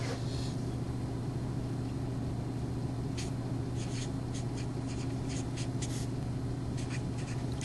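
Marker or chalk scratching out figures on a board in short, faint strokes and taps, spread through the clip over a constant loud mechanical hum.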